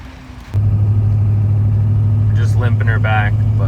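A damaged LB7 Duramax diesel truck engine runs after blowing up, a loud low droning rumble that swells in after a quieter start, with someone talking over it near the end.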